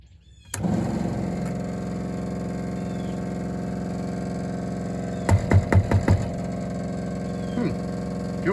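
An MEP-802A military diesel generator starts up and settles into a steady, droning hum, with a brief burst of rapid ticking from the fuel pump midway, close and continuous.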